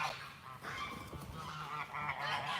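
Geese on a small animal farm honk repeatedly and loudly at close range, their nasal calls overlapping in a steady, excited chorus throughout.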